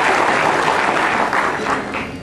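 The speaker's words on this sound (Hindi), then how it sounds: "आप सभी से आग्रह है जोरदार तालियों से।" Loud, steady applause from a crowd at a Bharatiya Janata Yuva Morcha political gathering in India, a dense, unbroken wash of clapping lasting about two seconds with no talk over it.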